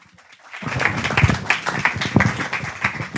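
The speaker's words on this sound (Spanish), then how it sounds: "Un aplauso por la foto bikini" Studio audience at a Spanish talk show breaks into applause, a dense burst of clapping that starts abruptly and holds steady at fairly close range, with a few louder claps rising above the wash.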